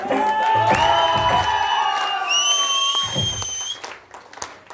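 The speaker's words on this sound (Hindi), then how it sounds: "तालियां, सीटियां, हल्ला गुल्ला करके दिखाएं आप लोग" A live audience at an Indian stage show cheers, whistles and claps, with sustained whistles and shouts over a dense wash of applause that fades toward the end.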